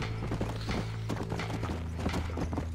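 Horse hooves gallop in Red Dead Redemption 2, a quick steady clip-clop rhythm of close, repeated hoofbeats continuing throughout.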